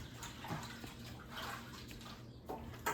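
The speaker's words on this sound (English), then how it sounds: "let me wash my hands" Tap water runs steadily into a kitchen sink while hands are washed beneath it, a continuous close splashing with a few brief louder surges and no talk.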